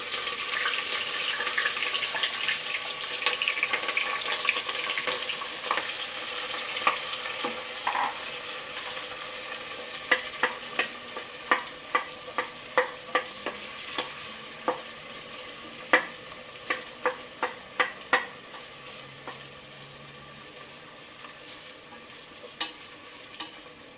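A pan of chopped onions fries with a steady close hiss for a long stretch, while a spoon stirs and scrapes in a run of crisp, rhythmic clicks that grow denser midway.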